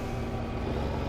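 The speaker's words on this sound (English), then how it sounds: "Oh, there's a tractor about to pull out." Tractor in the Farming Simulator 15 video game pulling out, giving a steady, dense engine rumble that holds at an even loudness for the whole short stretch, with no talking over it.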